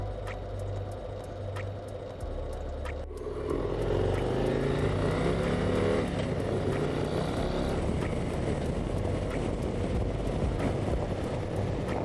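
A 2024 Harley-Davidson CVO Road Glide ST motorcycle accelerates hard. Its engine note climbs steadily and stays loud and close over a constant rush of wind, with no talking.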